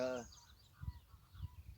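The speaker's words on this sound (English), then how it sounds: "There's geese down at one of the lakes over there." Geese honking at a distant lake come through as faint, low calls spread across a few seconds, with a brief voice at the start.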